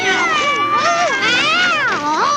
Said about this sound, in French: Mais qu'est-ce que tu fais avec cet idiot de chat? Il n'a même pas de queue, Azraël.